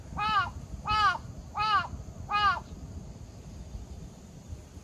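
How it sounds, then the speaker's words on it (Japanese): Crow cawing outdoors, four harsh evenly spaced caws at moderate distance, clear over a quiet background. "カラスですね。"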